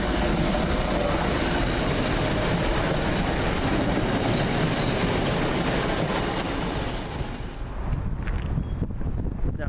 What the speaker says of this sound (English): Just now arriving with the 1459 service from Liverpool Lime Street to Manchester Oxford Road is 150-140